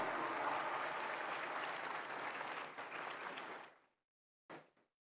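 Sustained audience applause welcoming the Governor of Sindh onto the stage at a public gathering, steady and dense clapping that fades out toward the end, followed by a brief final burst.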